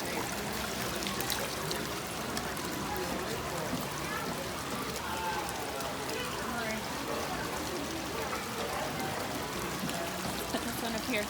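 Water streams steadily through a hands-on water exhibit at the Denver Museum of Nature & Science, a continuous near splashing trickle with people talking over it.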